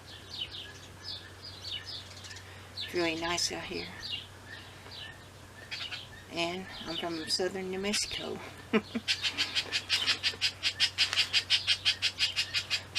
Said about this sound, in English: There's birds all over the place.